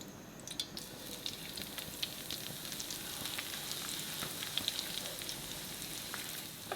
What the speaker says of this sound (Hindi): मैं इसे लाइट गोल्डन होने तक फ्राई करूंगी।